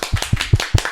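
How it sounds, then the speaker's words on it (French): Audience applause at the close of a French talk show episode, a short burst of loud, close hand claps in a quick irregular rhythm with no voices over it. "Allez, on va applaudir."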